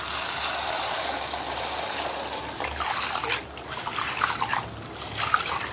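Soaked chana dal, split chickpeas, is rinsed by hand in water, producing soft trickling, swishing and light splashing with faint clinks, fairly quiet and close.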